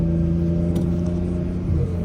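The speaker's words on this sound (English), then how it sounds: "A ver, compa, let me hear that turbo." A BMW F82 M4's turbocharged engine drones steadily from inside the car while driving the Marin Headlands coast roads, a constant close rumble with no break.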